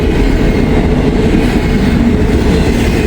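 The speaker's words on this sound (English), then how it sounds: "Coolest thing about that was the CPKC locomotive." A CPKC locomotive hauls a long intermodal freight train past at close range, a loud, continuous rolling rumble of wheels and cars that holds steady throughout, with no talking.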